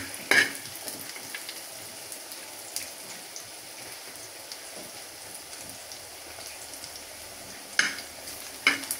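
Chicken gizzards fry in a pan with a steady, close, crackling sizzle throughout, broken by a few sharp clinks of a utensil against the pan near the start and end.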